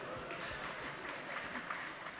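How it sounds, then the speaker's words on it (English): An audience at an evening onstage conversation claps in steady, moderately faint applause lasting a couple of seconds, spread evenly through the room. "my first applause line of the night"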